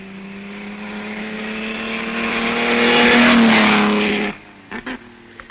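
A vintage ERA racing car engine roars during practice at Oulton Park, swelling loudly as it accelerates past, then cutting off abruptly, followed by a few short sharp engine blips.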